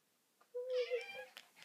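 A house cat gives a single clear meow, rising then holding a tonal cry for about a second, close and fairly loud in a quiet indoor room.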